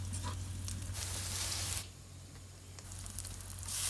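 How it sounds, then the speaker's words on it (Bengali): Onions frying in a pan for a Bengali village-style eggplant, potato and fish curry, with water added to the hot pan; a steady sizzle softens partway through, then builds again toward the end, with no talk. "পেঁয়াজ ভাজা হয়ে গেছে পানি দিয়ে দিলাম"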